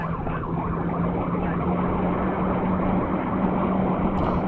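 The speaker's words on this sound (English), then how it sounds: "you hear this poor little patrol car. He's chugging along" Police patrol car with its siren wailing continuously while the engine drones and strains underneath, loud and close throughout.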